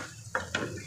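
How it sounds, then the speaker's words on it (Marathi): Chopped tomatoes tip into a pan of fried onions with two quick clattering knocks of utensil on metal, close and fairly soft, with a faint sizzle of cooking underneath. "आता याच्यामध्ये मी टाकते बारीक चिरलेले टोमॅटो"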